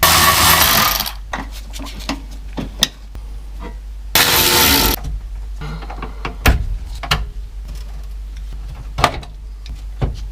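Bolts being removed from the glove box door of a 1966 Mustang dash, with close metallic clicks, taps and scrapes over a steady low hum, and two bursts of louder rushing noise.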